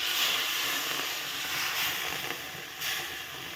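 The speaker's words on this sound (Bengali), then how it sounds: "বেশ ভাজা হয়ে গেছে, তো এখন পরিমাণ মতো আমি জল ঢেলে দেব।" Water poured into a hot pan of roasted semolina and rice flour, giving a steady loud hiss and sizzle of steam that runs throughout without any voices.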